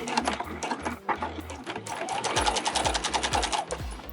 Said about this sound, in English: I'm going to stitch around 3 sides with a 1/2 inch seam allowance, making sure to back stitch at the start